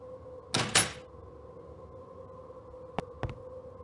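A baggage car door in the Murder on the Orient Express video game creaks and thuds open, followed after a pause by a couple of sharp latch clicks, all over a quiet background hum.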